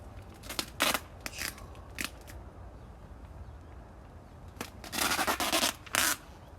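Tape being pulled and torn while sealing a Viper door on a hot house: short ripping and crackling strips in scattered bursts, then a longer run of tearing near the end, close and fairly quiet.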